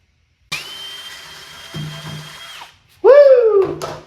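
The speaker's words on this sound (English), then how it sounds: "Now I'm going to drill a hole in these." A power drill whines steadily for about two seconds, then revs again in a short, louder burst, close by, with a brief mechanical clunk in between.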